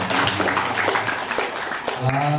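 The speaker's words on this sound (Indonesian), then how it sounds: "Tepuk tangan dong untuk Komet." An audience at the Komet camp event claps together in a continuous, moderately loud burst of applause, with voices talking and calling out over the clapping.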